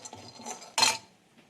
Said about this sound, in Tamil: இப்போ வேர்க்கடலையும் வறுத்து போட்டுக்கணும்